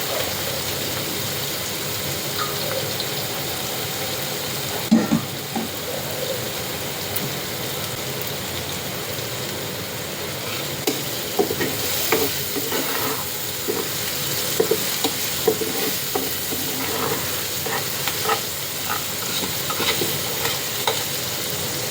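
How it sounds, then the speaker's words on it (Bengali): Onion, green chili and spices frying in oil with a steady, dense sizzle throughout, broken by occasional scrapes and clinks of stirring, close and fairly loud with no talk. "তেল পেঁয়াজের সাথে কাঁচামরিচ ভালো করে যে মশলা ভেজে নেওয়া হয় তাহলে ভালো হয়"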